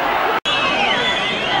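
A loud, continuous roar from an Irish boxing crowd as Collins presses forward against Eubank, a dense wall of cheering broken by one split-second dropout near the start.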